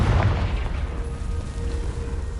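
Confringo blasting spell explosion in the video game Hogwarts Legacy, a deep, loud boom that rumbles on for a couple of seconds without any talk.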